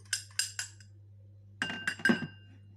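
A utensil clinking against a glass bowl while mixing soy sauce, ketchup, oil and garlic: three bright clinks, a pause, then a quicker cluster of clinks and scrapes over a low steady hum.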